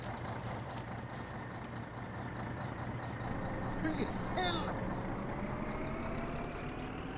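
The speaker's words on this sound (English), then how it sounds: "get away from the loud noise of the truck" A truck engine drones low and steady in the rural Finnish setting of My Summer Car, a constant rumble running close and loud under faint background sounds.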